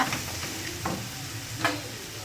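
Masala frying in oil while being stirred for a Mumbai-style fish gravy, a steady close sizzle broken by a few short scraping stirs, with no talking.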